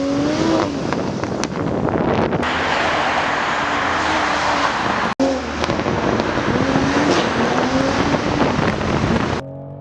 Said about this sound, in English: you know when there's twin turbo under the hood is by punching the throttle and we're flying